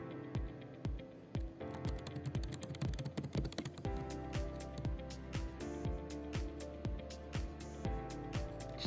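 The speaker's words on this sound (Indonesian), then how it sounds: "Lalu kita ketik apt cd space apt" Rapid keystrokes on a computer keyboard as a terminal command is entered, crisp irregular clicks in quick bursts with short pauses, close and alone.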